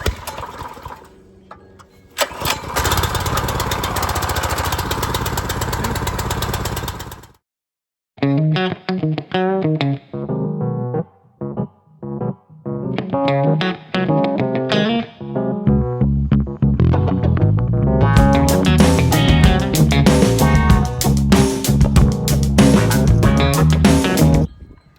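A Ryobi gas pressure washer engine starts with a loud burst of running that cuts out, then rough, stuttering catches and sputters before settling into a steady, loud, continuous drone.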